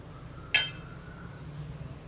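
A steel plate clinks once, sharp and close, while being greased with oil, then a faint tap follows near the end over a steady low hum.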